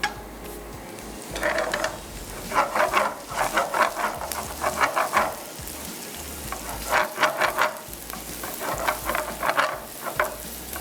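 Coriander and cumin seeds dry roasting in a pan, with repeated rhythmic scraping of a spoon stirring the seeds in groups of strokes over a steady low hiss.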